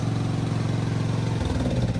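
A Briggs & Stratton riding lawn mower engine runs steadily and close, a loud, even mid-pitched drone whose tone drops and roughens partway through as the engine cuts out.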